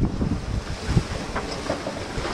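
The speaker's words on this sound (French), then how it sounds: "Pas mal de vent." Strong wind roars steadily at sea between Marie-Galante and Les Saintes, Guadeloupe, with waves and rough water rushing against a moving boat running downwind; a continuous, blustery noise with no voices.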